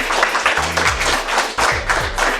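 A quiz audience claps together in a dense burst of applause that carries on steadily throughout.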